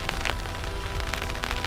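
Rain patters steadily on a fishing shelter at a coastal spot, a dense close hiss with scattered sharper drops, loud and continuous with no talk.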